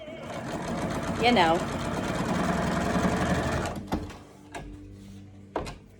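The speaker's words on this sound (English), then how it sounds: "Here we go, sewing, sewing, sewing." A sewing machine runs a straight seam across a fabric mask, a steady mechanical whir that stops, followed by a few sharp clunks and knocks, with a voice briefly heard over it.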